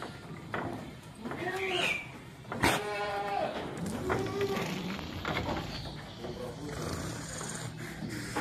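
An Etawah goat bleats several times, with wavering, nasal calls up close over a steady, low background murmur of livestock and people.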